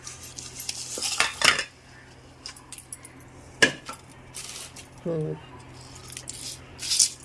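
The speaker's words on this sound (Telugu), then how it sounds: "ఇప్పుడు మనం ఈ తాలింపు ఇందులో పోసేద్దాము" Spoon clinks and scrapes against a bowl while kanda (elephant yam) pickle is mixed with poured tempering, in a few scattered bursts of metallic clatter with quiet gaps between.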